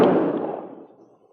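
A single rifle volley fired on command at a military post, Fort Laramie, one sharp loud crack with a long rolling echo fading away, no voices.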